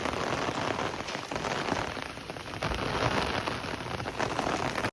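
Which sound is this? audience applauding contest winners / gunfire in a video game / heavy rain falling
heavy rain falling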